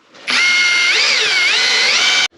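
A cheap brushless Bauer power drill boring into a steel welding table, one continuous loud high-pitched whine that starts abruptly, wavers slightly in pitch under load, and stops sharply after about two seconds.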